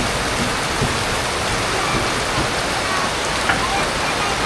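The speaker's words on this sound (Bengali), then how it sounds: "বৃষ্টি নামবা লাগছে" Steady rain pours down in a dense, constant hiss in a village, close and even, with no pauses.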